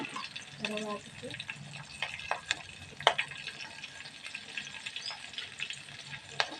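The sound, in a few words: curry leaves and green chillies sizzling in frying oil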